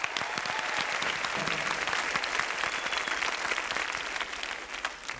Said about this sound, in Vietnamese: hãy chào đón món quà của họ dành cho chương trình chuyến xe âm nhạc ngày hôm nay đi nào vỗ tay thật to